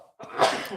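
One short, sharp human sneeze bursts out close by after a brief faint breath and quickly trails off.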